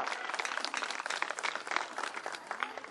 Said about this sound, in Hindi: जोरदार तालियां बसीन चाहिए भाई जोरदार तालियां